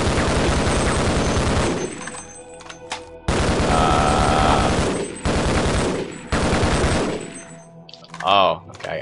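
Gunfire in Half-Life while shooting at mines: long, loud bursts of rapid shots separated by brief pauses, ending with a short, different mechanical sound.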